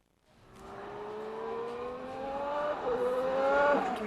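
A 2014 Formula 1 car at Jerez pre-season testing screams past, its engine note rising steadily in pitch as it accelerates and builds in loudness, with a brief shift near the end; no talking over it.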